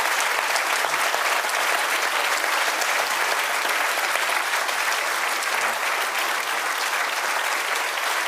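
Sustained audience applause at a lecture on twenty years since the fall of the Iron Curtain, a dense, even wash of many hands clapping that carries steadily from start to finish with no voices above it.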